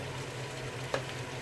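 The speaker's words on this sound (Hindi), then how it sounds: "तो इसको 1 से 2 मिनट तक कुक कर लेंगे लहसुन अदरक को" Garlic and ginger frying in a pan for a beef dum kabab gravy: a soft, steady sizzle runs throughout, with a faint clink of a spoon near the middle and no talk.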